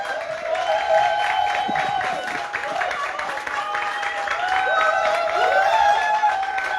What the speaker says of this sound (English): There's a time limit on applause here.